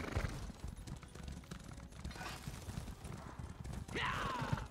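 Horse hooves clopping steadily while riding in the video game Elder Scrolls Online, a continuous gait under game ambience, with a brief neigh near the end.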